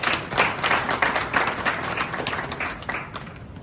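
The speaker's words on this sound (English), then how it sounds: "Shall we do a big round of applause for her?" Sustained crowd applause greets arrivals at a welcome gathering at Prempeh II International Airport, a dense wash of many hands clapping close and loud throughout, fading slightly toward the end.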